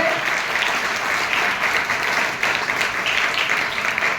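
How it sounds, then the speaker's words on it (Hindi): Strong, continuous audience applause at a voter awareness honor ceremony attended by college lecturers and female students, steady dense clapping throughout. "एक बार जोरदार तालियों से चुनाव के पर्व का स्वागत करें"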